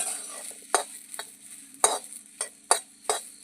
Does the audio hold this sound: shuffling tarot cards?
no